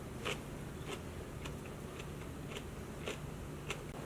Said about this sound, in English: but that crunch, that's exactly what you want with all of the veggies